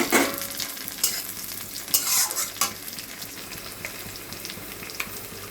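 Tomatoes stirred into frying onions in a pan: sizzling oil under repeated scraping strokes of a utensil, loudest at the start and easing to a softer steady fry, with no talking.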